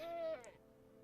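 A goat in the Minecraft video game gives one short, wavering bleat that quickly fades, fairly faint.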